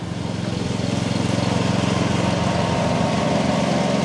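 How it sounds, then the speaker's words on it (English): An old used Kubota hydrostatic lawn mower runs steadily nearby, its engine holding a constant pulsing drone for the whole stretch with no voices. "Once we picked up this old used Kubota hydrostatic lawnmower, all of a sudden she likes mowing the grass"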